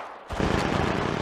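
Gunfire erupts in Apex Legends Mobile: after a brief quiet lead-in, a sudden, sustained volley of rapid shots fills the rest of the moment, loud and dense.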